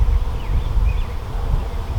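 Honey bees in a recently split hive with few bees hum in a low, steady drone close by, with a few higher buzzing passes from individual bees flying near.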